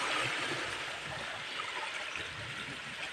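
Steady broad wash of seashore water and breeze on a beach, a continuous rushing hiss with faint low rumbles underneath, no voices.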